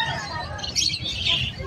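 Crested pet birds kept in cages chirp and tweet in a quick busy run, mixed with a low room murmur of voices.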